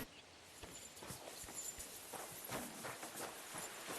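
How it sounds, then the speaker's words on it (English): Horse hooves clip-clop at an easy walking pace in Kingdom Come Deliverance 2, a steady run of quiet, fairly distant footfalls with no voices over them. "My, what a beautiful horse."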